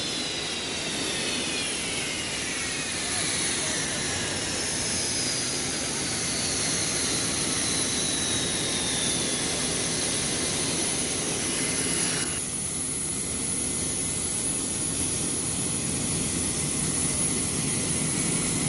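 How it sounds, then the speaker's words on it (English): Jet engines of a McDonnell F-15 Eagle run steadily as the fighter taxis under its own power for the first time, a loud continuous roar and whine close by, with a slowly falling tone. "Engines are slowly started again, and the ground crew disperse as, for the first time, the Eagle taxis under its own power."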